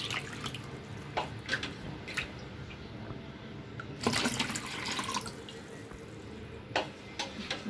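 Water is poured for a restaurant-style chilli chicken gravy, making soft running and splashing sounds with several stronger gushes.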